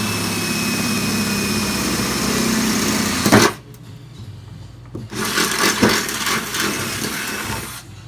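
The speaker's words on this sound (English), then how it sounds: "Right now I'm going through here with my bit, and I'm really reaming it out for the bigger slot." A power drill reaming out holes in a Dmax over-fender: a steady high motor whine that cuts out briefly, then resumes with the bit grinding through the material, close and loud.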